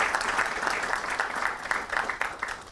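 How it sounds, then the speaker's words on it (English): An audience applauds together, a dense continuous patter of many hands clapping for a few seconds at a moderate distance. "please give yourselves a round of applause for that"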